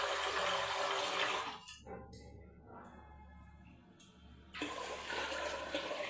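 Water pours into a container for cooling off on a hot day, a loud steady rush that breaks off midway and then resumes just as strongly near the end, with a low hum running underneath.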